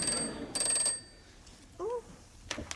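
A telephone rings indoors at night in two bursts of bright repeated bell tones, with a short pause between them, moderately loud, followed by a faint voice.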